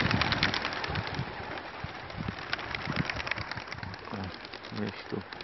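Racing pigeons being released for a club race of about 300 birds, with soft cooing and bird sounds amid steady outdoor noise, a faint engine hum and people talking throughout.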